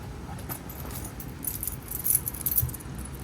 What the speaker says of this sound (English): these are my keys. I have some charms on them, a whistle and a flashlight, plus just some random charms